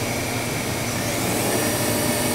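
The spindle of an Excel PMC-10T24 vertical machining center spins at about 2,500 RPM, giving a loud, steady, close whirring hum with no talk over it.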